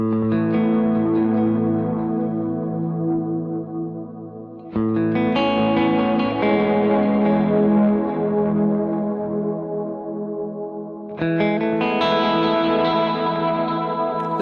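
A guitar runs through a stacked Brig delay pedal in multi mode; three loud strummed chords ring out, each trailing into layered, dense repeats that swell and slowly decay, with no talking.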